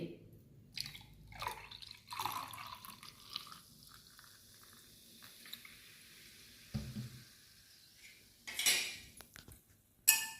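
Soda poured into a glass of lemon sharbat gives soft splashing and dripping among clinks of glass and utensils, quiet and close, with a voice speaking briefly.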